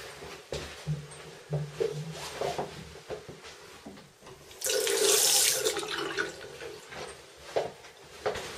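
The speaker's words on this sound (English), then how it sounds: "Now I've turned the water on." Water rushing from a pipe into a toilet cistern as it fills, loudest in a burst midway, among clicks and knocks of handling close by; no speech.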